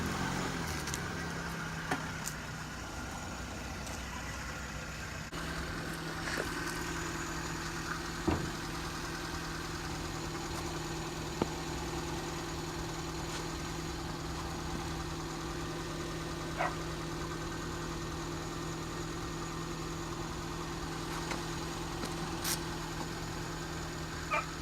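A sports car engine idles with a steady, low, continuous hum, faint and unchanging throughout, with occasional small clicks and no talking.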